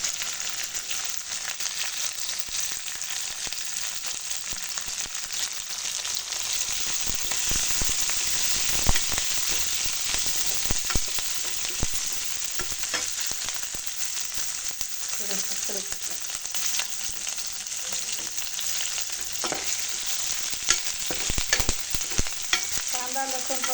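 Chili hits a pan of frying garlic and ginger, giving a loud, steady, dense sizzle that runs throughout with occasional stirring scrapes.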